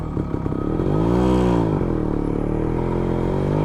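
A Suzuki Max 100R two-stroke motorcycle engine pulls steadily in gear, its pitch swelling and dipping as the revs rise and ease, heard close and loud throughout without a break.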